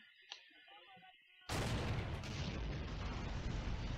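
In Battle for Pegasus Bridge, an 88 gun shells a building, with a sudden heavy blast halfway through that rolls into a long, loud rumbling roar after a quieter stretch of faint sounds.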